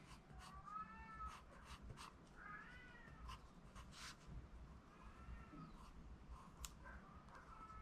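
A pet cat meows several times in short, rising calls spread across the stretch, fairly close and clear over a low steady background hum.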